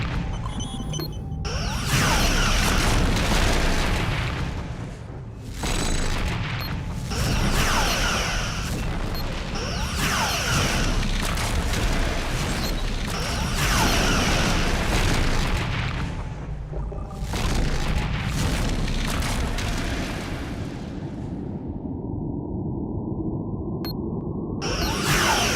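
Sustained, loud bursts of phaser fire and impacts from starship combat in the video game Star Trek Legacy, with repeated booming blasts and whooshing sweeps over about twenty-five seconds and no talk.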